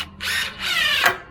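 A power drill drives a screw into a twisted board during building work, giving a close, loud whirring run that steadies, surges and then winds down, with no talking.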